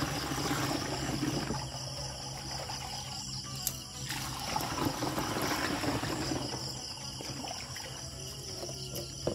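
Water pours steadily into a chili pepper spray mix of fungicide and insecticide, a continuous trickling stream with a faint hiss throughout.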